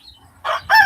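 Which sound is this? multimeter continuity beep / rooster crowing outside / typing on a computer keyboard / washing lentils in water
rooster crowing outside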